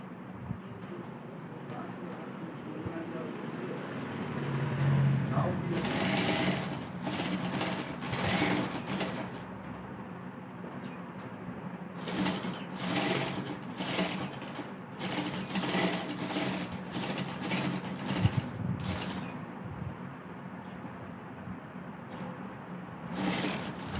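A repaired sewing machine stitches on buckram in a home setting, a fast rhythmic clatter in several runs with short pauses between, fairly close and moderately loud, with faint background noises.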